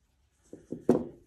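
A leather necklace cord beside a barrel knot is trimmed, giving three short, close snips that grow louder, with the last one the sharpest, in an otherwise quiet room.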